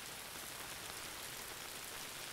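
Steady rain falls in a continuous, even hiss with dense patter across the whole span, moderately loud and close, with no voices or other sounds.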